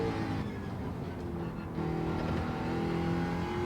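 Race car accelerating in Gran Turismo 7 with traction control active, a steady engine drone with harmonic whine that rises after a brief shift around mid-clip, continuous and close with no talk.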